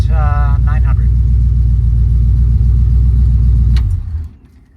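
A 1947 Studebaker M15 hotrod truck engine idles at about 900 rpm with a loud, deep, even rumble, and a short high whine appears near the start. The engine shuts off abruptly near the end and the sound drops away.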